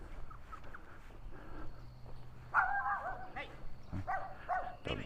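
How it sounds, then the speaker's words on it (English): A dog comes out of a yard along a quiet residential street in Innisfail, Australia, barking a few times at middle distance amid faint birdsong and outdoor ambience. "Dog coming out."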